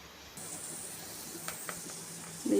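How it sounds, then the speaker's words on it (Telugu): Water boils in a pot in a kitchen as a soft, steady hiss and low bubbling rumble, with a couple of faint clicks and a brief louder bump at the very end. "నీళ్ళు మరిగిపోయినాయండి."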